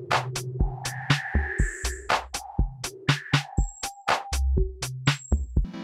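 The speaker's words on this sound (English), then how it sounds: "Quilt is great for making a rhythmic sound galactic." A sharp percussive rhythm is run through a Critter & Guitari Quilt filter-delay on an Organelle, its clicks and tonal hits repeating with echoing filtered tails and bright sustained tones, close and clear.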